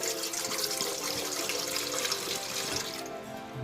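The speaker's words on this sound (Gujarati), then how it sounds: "થોડું પાણી નાખી દીધું અંદર" Water splashes and runs as it is poured into a steamer pot, a continuous close gurgling stream that stops abruptly near the end.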